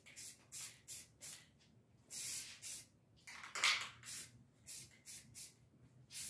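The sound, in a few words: spray paint sprayed onto an electric guitar body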